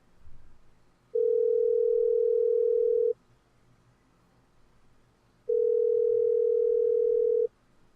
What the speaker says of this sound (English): the phone got disconnected